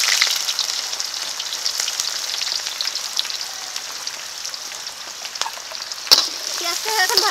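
Sliced onions fry in mustard oil with bay leaves and whole spices in a wok, a close, steady crackling sizzle with occasional stirring scrapes and one sharp clink near the end.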